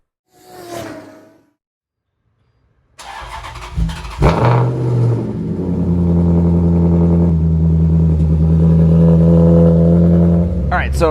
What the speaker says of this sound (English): let me go start the car up so you can see the issue I'm talking about